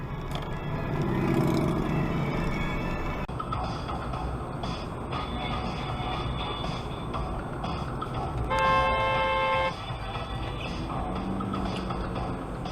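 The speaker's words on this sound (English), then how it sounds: "Mazda just lays on the horn as a response." Steady city traffic noise rolls along, then a Mazda's horn blares in one sustained honk of about a second before the road noise continues.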